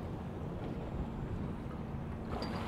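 Steady wind buffets the open air around a small fishing boat drifting on Lake of the Woods, a low, rushing rumble with no voices.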